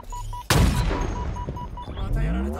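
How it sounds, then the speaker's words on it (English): Gunfire in a chaotic video game match hits the player as a single sharp, loud blast, followed by a clattering tail, with a faint beeping tone running underneath. "Stop shooting at me!"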